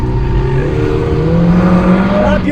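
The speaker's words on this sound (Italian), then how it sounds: "Rabbiosissimo e lo uso tutto il motore" The four-cylinder engine of a Lotus Emira i4 revs hard and loud from close by, a rising, strained drone that holds and climbs across the whole stretch with no speech.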